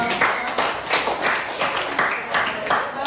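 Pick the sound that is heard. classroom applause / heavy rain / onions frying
classroom applause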